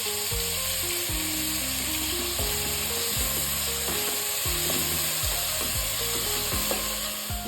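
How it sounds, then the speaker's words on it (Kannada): Chopped onions with a pinch of salt sizzle and crackle steadily in a hot pan while making moong dal uppittu. The frying is close and continuous, with a soft background hum and no talking. "ಈಗ ಈರುಳ್ಳಿ ಎಲ್ಲ ಚೆನ್ನಾಗಿ ಫ್ರೈ ಆಗಿದೆ."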